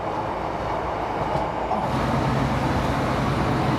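Continuous rumbling and rattling of a moving train, a steady broadband roar with a slight shift in tone partway through.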